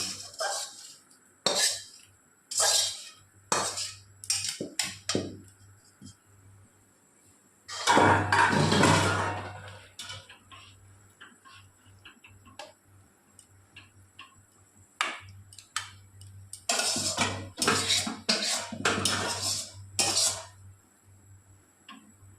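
Chicken pieces go into a pot of potatoes and get stirred, producing repeated sharp metallic clinks and scrapes of a utensil against the pot and a longer rustling, sloshing stretch midway. Close and clear.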